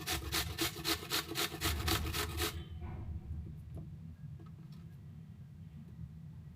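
An onion is grated by hand for Ugandan chapati, with about eight quick, rhythmic rasping strokes close up before the scraping stops and only faint handling noises remain.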